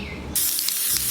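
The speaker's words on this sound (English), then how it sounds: "I think I'll spray them again" A short aerosol spray of silver food colouring onto a cake bursts on abruptly after a brief pause and hisses steadily, close and loud, until the end.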